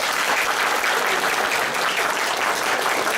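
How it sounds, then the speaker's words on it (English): Theater audience at an improvised Dungeons & Dragons show clapping hands, a loud, dense burst of applause that holds steady throughout. "If you think she confessed, clap your hands on the count of 3."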